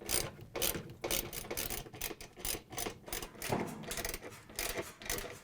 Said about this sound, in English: You can use either of the heads on the socket wrench.